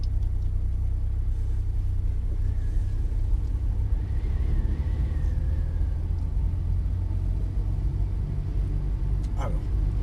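A car engine runs while the car is being driven, a steady low rumble and drone inside the cabin. The engine holds an even pitch with no sharp revving.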